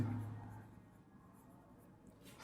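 Marker or chalk writing on a board during a Hindi-language grammar lesson, a soft continuous scratching of strokes lasting a couple of seconds, close and fairly quiet, with no talk over it.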